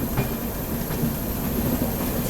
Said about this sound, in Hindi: हम लोग यहाँ पर ओवरटेक कर रहे हैं गोमती नगर डिब्रूगढ़ अमृत भारत एक्सप्रेस को।